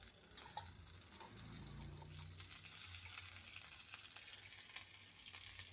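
Chickpeas roasting in a spoonful of oil in a pan, a faint continuous sizzle with soft crackles and pops, close and steady without speech.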